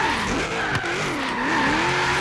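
Holden Commodore VK drifting in Forza Horizon 3, tires squealing in wavering, sliding tones over a loud engine, close and continuous across the short stretch.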